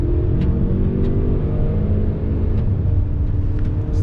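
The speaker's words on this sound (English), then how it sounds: "let me do a little acceleration test again from a slow roll on throttle" A 2020 Hyundai Santa Fe SUV accelerating from a slow roll, heard from inside as a loud, steady low engine drone and road rumble that holds fairly even across the few seconds.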